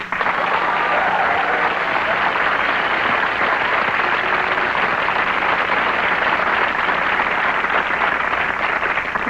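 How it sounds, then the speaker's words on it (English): A comedy-show studio audience breaks into loud, sustained applause, a dense continuous clatter of many hands lasting several seconds. "By round of applause, how many people here have never been polled?"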